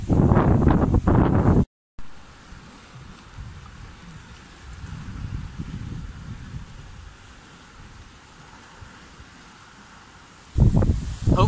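Wind gusting against the microphone on an estuary shore while fishing for bass, a steady low rumbling buffet with stronger loud blasts at the start and end, plus a brief dropout.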